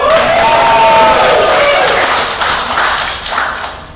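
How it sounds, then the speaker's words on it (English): An audience at a social fandom panel event cheers and applauds loudly for a tweet in a head-to-head vote, a dense roar of whoops and clapping that fades slightly toward the end. "let's do one more quick cheer."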